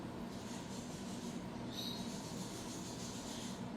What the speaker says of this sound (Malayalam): വേണമെങ്കിൽ മിക്സിൻ്റെ ജാറിലിട്ടിട്ട് നമുക്കൊന്ന് ക്രഷ് ചെയ്തെടുക്കാം